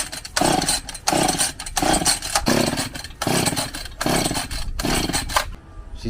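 A Husqvarna chainsaw that has not been run in a while is being started, with about eight loud, close, rhythmic pull-cord bursts of sputtering engine noise, each followed by a brief gap, and no voices.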